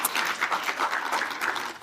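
An audience at a panel discussion on children's health in Canada claps steadily, a dense patter of hands with no voices over it.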